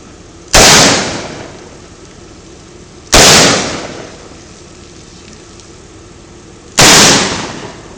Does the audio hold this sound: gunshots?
yes